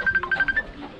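A phone rings during work dismantling and washing a threshing machine, a short series of rapid electronic tone pulses lasting about half a second, moderately loud, then fading into low background noise.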